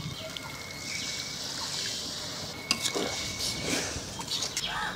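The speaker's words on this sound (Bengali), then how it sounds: "বাটি ধোয়া জলগুলো দিয়ে দিচ্ছি।" Water that rinsed a bowl is poured into ground ginger, coriander, cumin and dried chilli paste frying in a pan, a brief trickle and splash with a clink of the bowl over a sizzling hiss.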